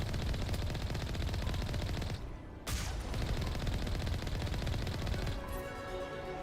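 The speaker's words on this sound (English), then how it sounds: "Explosions." Gunfire and explosions in the Mass Effect video game, dense continuous rattling bursts with a brief lull partway through.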